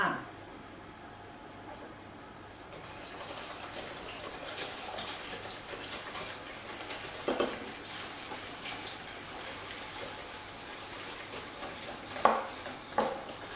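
A whisk beats a mixture of lime juice in a pan on the heat, making soft continuous scraping and stirring with a few sharper metallic clinks near the end, fairly quiet throughout.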